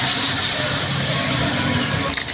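Water is poured into a pot of sautéed pork innards while cooking, giving a steady, close rushing pour that runs throughout and shifts slightly near the end, with faint voice traces in the background.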